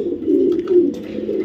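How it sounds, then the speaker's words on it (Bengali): A young male imported racing pigeon gives a continuous low, throaty coo, near and fairly loud, with rhythmic swells throughout. "এটা হলো একটা নর কবুতর,"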